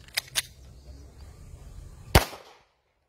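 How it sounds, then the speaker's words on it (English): A 9mm handgun fires at a concealed Level IIIA ballistic vest outdoors. Two quick sharp shots come close together, then a louder third crack follows with a brief echo before silence. "Okay, next one, gamit tayo ng 9mm."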